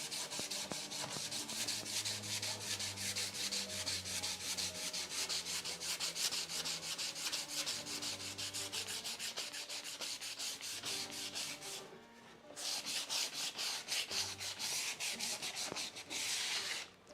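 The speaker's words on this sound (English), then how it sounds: "And this sanding is something that I have to do only with the first coat" Steady, rhythmic sanding of a primed wooden door, a continuous scratchy rubbing close up with a brief pause near the end.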